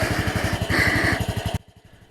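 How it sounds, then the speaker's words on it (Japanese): A Honda Super Cub's small single-cylinder engine is kick-started and putters in a rapid, even beat, then drops suddenly to a quieter idle chug. "この状態からキックしてもエンジンかかっちゃいます。"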